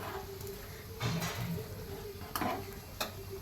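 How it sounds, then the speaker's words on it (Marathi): Cumin seeds sizzle and crackle in a spoonful of hot ghee, tempering for a kadhi, with a steady close hiss broken by a few sharper pops and utensil clinks. "आता आपण मस्त असं थोडंसं एक चमची तूप गरम करून घेत आहोत तडक्यासाठी त्यात घालत आहोत आता जिरे"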